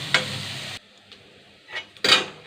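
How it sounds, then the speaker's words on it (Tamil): Onions sautéing in a pan with green chilli for samosa masala: a sizzling hiss with scraping and stirring strokes of a spatula, sounding in short bursts separated by quiet gaps. "2 வெங்காயம், நல்லா வதக்கலாம்."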